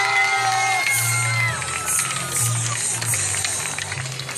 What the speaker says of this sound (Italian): Glielo facciamo un grosso applauso all'inverno.